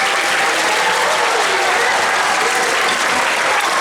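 A festival crowd at a music and arts center applauds steadily, a dense wash of clapping that stays loud from start to finish.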